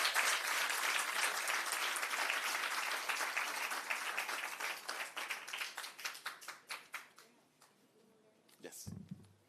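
An audience at a launch event for a parent programme applauds, with dense clapping that thins into scattered individual claps before a brief voice is heard at the end.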